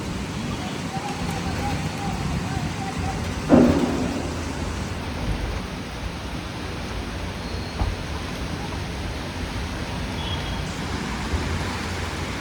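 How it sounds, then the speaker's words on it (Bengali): A windy storm brings steady rain with a single loud rumble of thunder early on, then the rain continues as an even, close hiss. "ঝড় হচ্ছে, ঝড়ের সঙ্গে বৃষ্টি হচ্ছে।"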